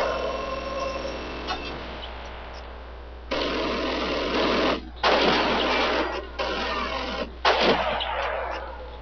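Machine gun fire from the Call of Duty campaign at Stalingrado comes in loud, dense bursts of several seconds each, separated by short pauses, with a continuous low game hum underneath and no speech.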